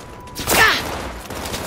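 A burst of gunfire in the video game Cyberpunk 2077, one loud volley of overlapping shots that swells and then fades into a rumbling tail, with no talk over it.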